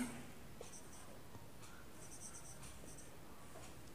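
Pen scratching across paper as an answer is written out, a run of short strokes steady over faint background hiss, close and fairly quiet.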